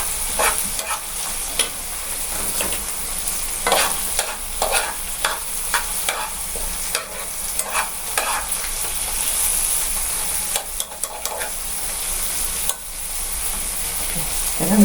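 Peas and carrots are stirred in a sizzling frying pan, with repeated scraping stirs over a steady, close fry and no talk.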